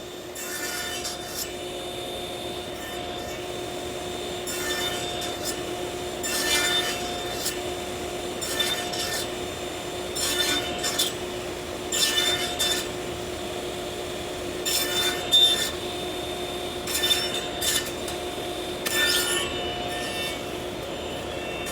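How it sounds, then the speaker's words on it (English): A single-blade saw cuts wooden tenons for a cradle, producing repeated bursts of rasping cutting noise roughly every second or two over a steady machine hum. "I'm just gonna cut the tenons at the saw. I'm just gonna do it with a single blade"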